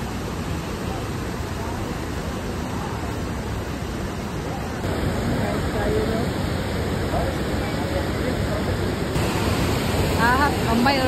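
Rushing waterfall on the Johnston Canyon trail in Banff, a steady broadband roar of falling water that stays loud and continuous throughout, with a faint voice briefly audible near the end.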